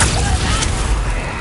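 A Confringo blasting spell explodes in Hogwarts Legacy, a loud, short, booming burst that dies into a rumbling tail.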